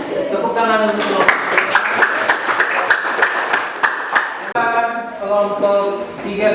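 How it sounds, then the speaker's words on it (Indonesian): A classroom of students claps for a group after its discussion presentation, a quick run of close handclaps mixed with voices talking over it. "Tepuk tangan untuk kelompok."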